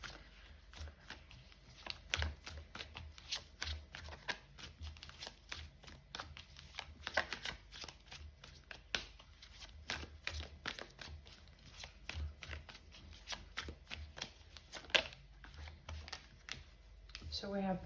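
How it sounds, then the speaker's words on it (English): A deck of tarot cards being shuffled, giving a run of quick papery riffles and taps that come and go with a steady rhythm, close and fairly quiet, with a little soft talk now and then. "But let's pull one more card."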